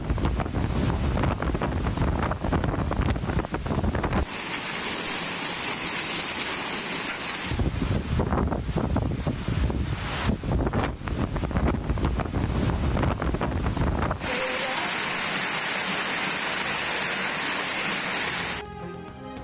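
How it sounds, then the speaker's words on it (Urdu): Heavy rain with strong winds lashing Rawalpindi and Islamabad, a loud, continuous roaring wash of rain and gusts that swells and drops in sections, with no voices. "جمعے کی صبح جڑواں شہروں راولپنڈی اور اسلام آباد میں تیز ہواؤں کے ساتھ موسلادھار بارش ہوئی"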